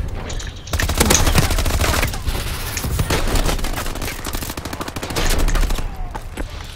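Sustained automatic gunfire in a video game, dense rapid bursts of shots firing nearly nonstop, loud and close, with short pauses between volleys.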